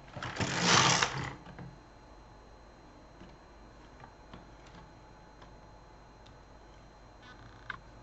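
A Silver Reed LK150 knitting machine carriage is pushed across the needle bed for a row of a beret: a loud, close sliding rush lasting about a second, followed by faint scattered ticks over steady low hum.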